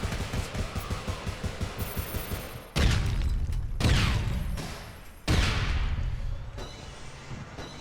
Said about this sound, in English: We're gonna throw a grenade.